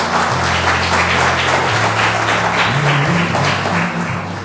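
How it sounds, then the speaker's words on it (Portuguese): An audience at a commerce workers' union event claps for the union president, a steady, fairly loud wash of applause with a low sustained musical tone running beneath it. "Senhoras e senhores, uma salva de palmas ao nosso presidente Luiz Carlos Mota."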